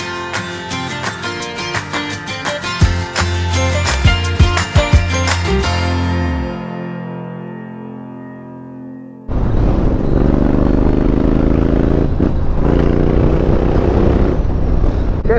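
A Honda Africa Twin CRF1100L motorcycle rides along, a loud engine drone with harmonic whine that fades, then a rougher broadband rumble of wind and road noise, no talk.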